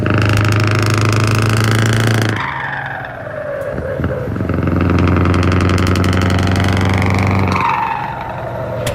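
A loud, close V8 truck engine rumbles steadily, its pitch dropping and then climbing again as it revs, with a rattling knock running through it.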